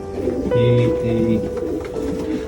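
Racing pigeons coo in a loft, a steady rolling series of low repeated coos close by, with someone talking over them throughout.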